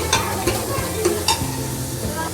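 Onions and green chillies stirred and frying in a pan for a Punjabi aloo matar sabzi, a steady close sizzle with a few scraping stirs of the spoon against the pan.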